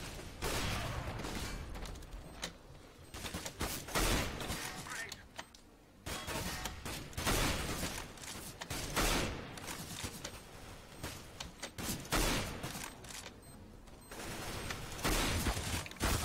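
Gunfire in Counter-Strike: Global Offensive includes sniper rifle shots among rapid bursts of sharp reports that come in clusters and pauses. The sound is faint, with a voice speaking at times.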